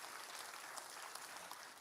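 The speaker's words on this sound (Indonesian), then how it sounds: "Ada kasih tepuk tangan dulu yang luar biasa" Church congregation applauding, a brief, quiet patter of many hands clapping at a distance.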